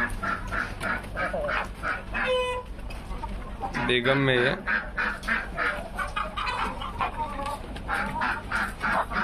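Aseel chickens feeding together cluck and squawk in repeated close bursts, with one louder drawn-out call midway, while someone talks over the flock.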